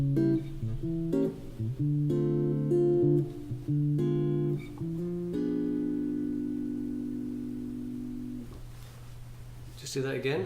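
Jazz guitar plays diminished chords shifting twice per bar, a series of clear strummed chords over a low sustained tone, with the last chord ringing out and fading.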